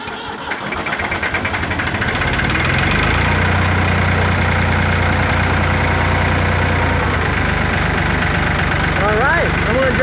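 A diesel hay tractor engine cranking over and catching, then settling into a loud, steady, close-up idle with a rhythmic knock.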